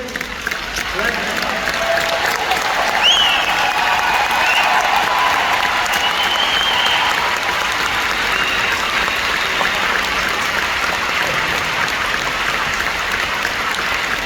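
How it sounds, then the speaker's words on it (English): A large convention crowd gives sustained applause, a dense roar of clapping that swells in and holds steady for many seconds, with faint voices and a brief whistle-like tone above it. "Let's give them another big round of applause"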